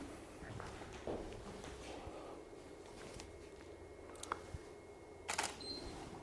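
A studio camera fires its shutter and flash during a portrait shoot: a few sharp, brief clicks near the end, set against a quiet, hissy room.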